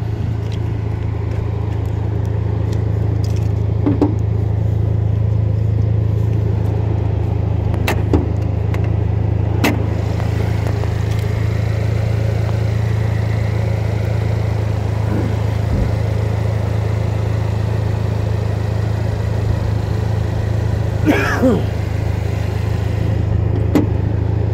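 A 2018 GMC Terrain with a dented hood and damaged rear sits running, its engine holding a steady loud idle hum throughout, with a few faint clicks and knocks over the constant drone.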